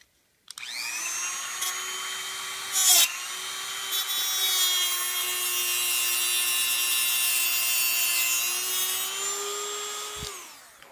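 Power tool cutting through a 1/8 inch aluminum rod, a steady high whine with bright tonal ringing that runs unbroken for about ten seconds and cuts off abruptly, close and loud with no talking.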